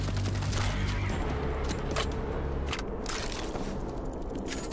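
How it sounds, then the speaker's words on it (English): An auto turret in World War Z fires rapid bursts of automatic gunfire, loud and close, with dense overlapping shots over constant game noise. "Placed an auto turret."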